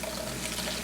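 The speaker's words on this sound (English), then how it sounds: "slowly pour in the cream" Cream being poured slowly into whisked egg yolks and sugar, a short, steady liquid stream splashing softly into the bowl, close and continuous.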